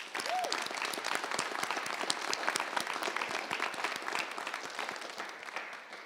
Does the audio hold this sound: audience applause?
yes